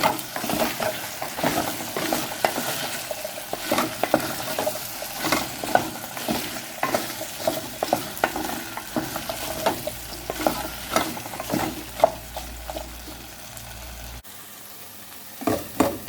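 Herbs, celery, coriander, soft leeks and okra cooking in hot oil with arrowroot, a continuous bright sizzle broken by frequent stirring clicks and scrapes throughout, close and fairly loud with no talking.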